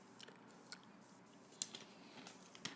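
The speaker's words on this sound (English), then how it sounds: "this gum is... Can you guys hear it? I'm trying to chew it loud." Gum chewed loudly close to the mouth gives wet, squishy smacks and a few sharper clicks at an uneven pace over quiet room hiss, with no talking.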